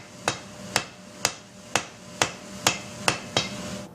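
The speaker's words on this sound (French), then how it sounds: "À l'aide d'un marteau d'environ 3 kg, le métal est ensuite soigneusement battu pour l'étirer." A hammer of about 3 kg strikes steel heated to 1100 degrees to stretch it in a Japanese forge, eight sharp ringing blows at a steady, unhurried rhythm, close and clear with no talk.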